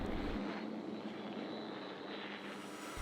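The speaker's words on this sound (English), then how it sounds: "A vampire drone can be seen and heard flying from right to left across the front of the tank." A small drone's engine drones steadily overhead near a tank in a forest, a continuous buzzing hum heard from a distance for a few seconds.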